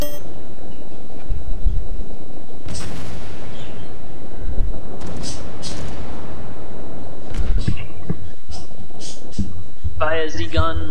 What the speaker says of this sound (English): Fire the guns! All the guns!